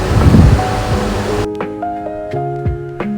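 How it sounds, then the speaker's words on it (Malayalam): Water pours into a cooking pot of prawn rice as a loud, rushing splash for about a second and a half, then stops abruptly and gives way to music. "ആവശ്യത്തിനുള്ള വെള്ളം ഒഴിച്ച് പതപ്പിക്കണം"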